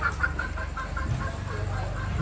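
Rooster clucking at hens in a backyard chicken coop in the rural Philippines, a quick series of soft, close clucks over a low, steady ambient background.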